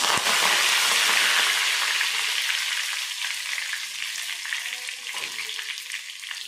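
Cut curry leaves hitting hot oil with popped mustard seeds, a loud bright sizzle that gradually settles into a steady crackle with faint pan scrapes.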